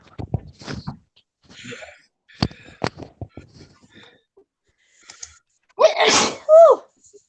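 A single sharp human sneeze bursts out near the end after scattered quiet clicks and faint talking, loud and close.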